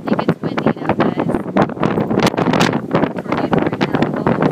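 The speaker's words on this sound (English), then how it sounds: "Oh, it's wind and dust and crap going around everywhere." Strong wind storm gusting and blowing dust outdoors, loud buffeting roar hitting the microphone in rapid irregular bursts, close and harsh throughout with no break.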